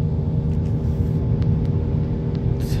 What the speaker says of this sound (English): Okay, you can hear the engine revving pretty good.